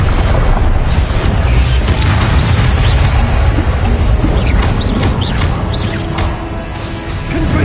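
Confringo fire-blast spells in Hogwarts Legacy go off as a loud, continuous run of booming blasts and crashes, with sharp bursts layered over a heavy low rumble throughout.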